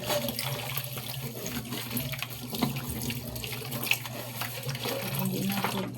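Tap water running into a sink while dishes are washed up, a steady rushing stream with occasional clinks and splashes of handling, fairly quiet and continuous.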